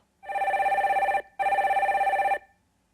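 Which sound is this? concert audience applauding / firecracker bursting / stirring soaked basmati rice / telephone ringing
telephone ringing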